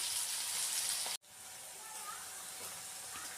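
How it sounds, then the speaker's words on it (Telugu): Onions and carrots fry in oil for a broccoli fry, giving a faint, steady sizzling hiss with one brief break before it continues. "క్యారెట్స్ వేసుకొని ఇవి ఆయిల్లో వేగేంత వరకు ఒక టూ త్రీ మినిట్స్ మీకు పెట్టుకొని ఉంచుకోండి"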